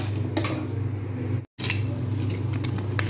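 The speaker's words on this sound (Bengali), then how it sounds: "নাড়তে থাকবো।" A utensil scrapes and clinks against a pan while spring roll filling seasoned with tandoori sauce is stirred, repeated metallic taps over a steady fan hum, with a brief break midway.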